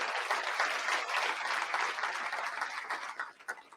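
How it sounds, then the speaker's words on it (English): An audience at an International Women's Day breakfast gives a round of applause for women being honored, a steady, moderately loud clapping that thins out toward the end. "if we could have a round of applause for these women"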